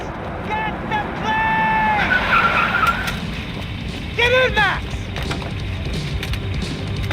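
Car driving with sharp tire skids in the video game Max Payne 3, squeals rising in bursts early and again midway over a steady engine rumble, with game sound around it.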